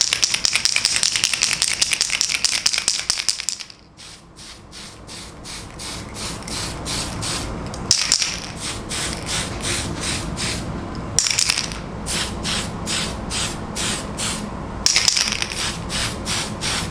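Tamiya Gunship Gray spray paint coats a scratch-built thermal detonator prop. A long, loud, continuous hiss gives way to a rapid rattling pulse, broken by brief spray bursts, all close by with no voices.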